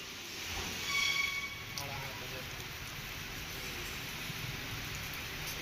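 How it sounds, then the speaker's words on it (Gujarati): Light evening rain falls in Viramgam taluka near Ahmedabad during a spell of strong wind, a soft, steady, faint hiss heard from start to finish. "જ્યાં ધીમી ધારે વરસાદની સાંજ પછીથી શરૂઆત થઈ ગઈ"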